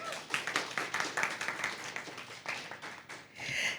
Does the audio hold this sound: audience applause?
yes